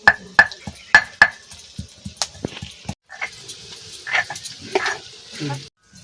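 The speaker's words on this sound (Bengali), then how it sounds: "এবার তেলে পেঁয়াজ দেওয়া হচ্ছে" Onions going into hot oil for a bhetki fish-bone curry, with a few sharp clinks of a utensil against the pan at the start, then a soft crackling sizzle and scattered stirring scrapes.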